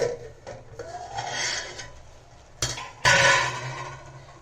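A lid is lifted off a pot of home-style vegetable biryani, with soft scraping and rubbing followed by two sharp metallic clinks close by.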